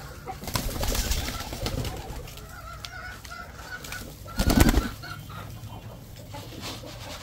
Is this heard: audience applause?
no